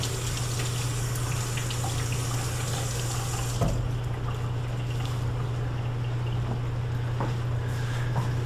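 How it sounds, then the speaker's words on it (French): Water running steadily from a tap while hands are rinsed, a continuous broadband rush with a low hum underneath, close and fairly loud throughout, with a brief splash change partway through. "on se rince un peu les mains"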